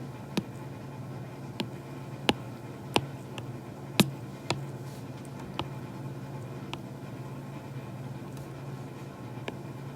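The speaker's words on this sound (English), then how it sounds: "It's actually our fire stove. Our wood stove burning." A low, steady rumble of a burning wood stove with scattered faint ticks and crackles over a constant background hum.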